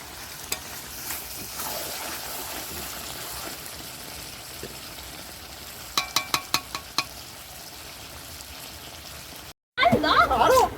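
Meat and fried potatoes being sautéed together in a pan for a home-cooked lunch, giving a steady low sizzle with scraping stir clicks partway through and a louder burst near the end.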